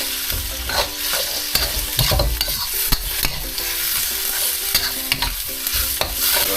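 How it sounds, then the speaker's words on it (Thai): Eggplant stir-fried over high heat in a pan, with a steady loud sizzle and rapid, irregular scraping and clacking of a utensil tossing the vegetables throughout. "เร่งไฟขึ้นหน่อยนะครับต้องผัดมะ"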